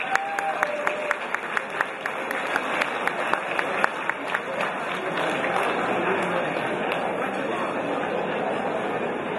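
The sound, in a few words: applause for the club president at a banquet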